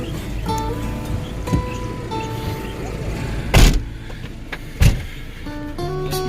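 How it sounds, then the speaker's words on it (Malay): Lorry on a trip to a Sua Betong estate, engine humming steadily inside the cab with shifting whine tones and two loud thumps or bumps along the way. "Kita pergi naik lori hari ni."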